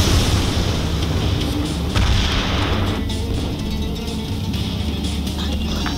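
Aircraft destroyed by gunship fire in the video game ACAH Spooky, with heavy rumbling cannon booms and explosions continuing as a dense, loud barrage.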